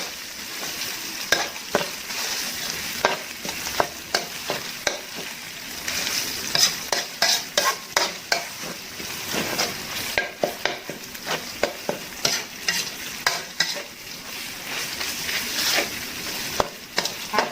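Thai red curry paste frying in oil in a pan for a stir-fry of long beans and pork belly, a steady sizzle broken by frequent sharp scraping stir strokes, close and continuous.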